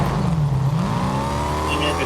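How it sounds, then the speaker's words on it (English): A car in the Fortnite video game drives past with a steady engine drone that sweeps downward in pitch, loud and close for about two seconds. "And there's a car."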